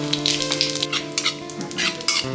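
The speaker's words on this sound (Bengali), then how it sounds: "তেল গরম আছে, জিরা দিয়ে দিলাম।" Cumin seeds fry in hot oil in a pan with a loud, close, crackling sizzle that carries on steadily, with bursts of spitting and a faint stir near the end.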